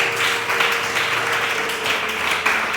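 Applause from an audience at a family conference, a steady wash of clapping that carries on throughout.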